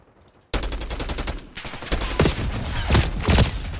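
Rapid automatic AK-74 fire in Call of Duty: Black Ops 6 multiplayer: a loud, continuous burst of closely spaced shots starting abruptly, followed by a few heavier, louder reports over sustained gunfire.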